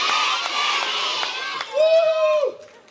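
A concert audience shouts a performer's name together on cue: a loud, massed burst of voices that swells into a single sustained group yell, then cuts off.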